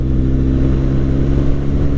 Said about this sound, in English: oh, my engine sounds rowdy. Man, listen to that bike